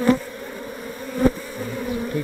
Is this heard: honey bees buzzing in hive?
yes